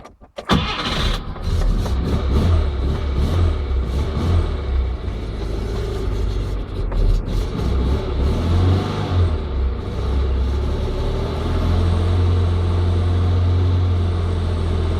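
An old Škoda 100 engine, still cold and misfiring, cranks and catches, then runs roughly with deep rumbling and uneven revving, loud and close throughout.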